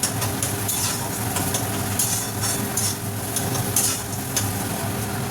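Pointed gourd (potol) sautéing in hot oil in a pan for tel potol, a steady dense sizzle with soft stirring scrapes running throughout at close range, no voices.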